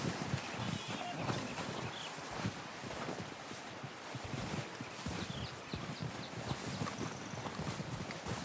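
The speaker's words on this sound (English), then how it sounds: "Ride your horse and follow my lead." Steady galloping horse hooves in Red Dead Redemption 2, a continuous rapid clatter over a constant wash of wind and ambient noise.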